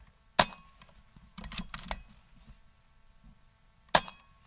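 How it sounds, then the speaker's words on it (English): Two sharp, isolated air rifle shots from an Air Arms S510 TXS, spaced about three and a half seconds apart, with faint handling clicks between them; outdoors, no talking. "I need to take a couple shots to clear that out"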